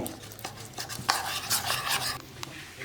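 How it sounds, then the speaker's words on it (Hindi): Gram flour batter for onion snacks is whisked in a bowl to break up lumps, a close run of wet slapping and scraping stirring strokes in an uneven rhythm. "ये इसकी गुठलियाँ अच्छी तरह आपने मिक्स कर लेनी है।"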